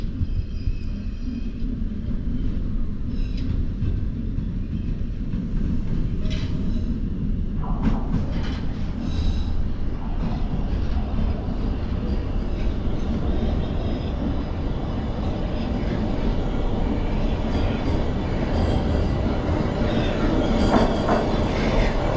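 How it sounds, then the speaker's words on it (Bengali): A Bombardier-built Toronto subway train arriving at a station, a continuous loud low rumble and rail roar with faint clatter and squeals building over the full stretch, no speech. "শুনুন সেই সাউন্ড। এটা টরন্টো সাবওয়ের চেনা আওয়াজ।"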